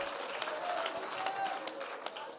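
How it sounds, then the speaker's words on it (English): Audience applause for an honorable pastor at a faith sector roundtable, a moderate spread of clapping with a few sharper individual claps standing out, with murmuring voices underneath. "A big round of applause for Honorable Pastor Hobbs."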